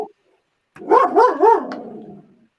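A dog gives a quick run of three close, loud barks that trail off into a short whine, with silence before it.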